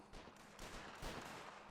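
Musket gunfire crackles through a video game battle set in the Anglo-Zulu War, with dense overlapping shots and volleys in a loud continuous barrage, with no pause between reports.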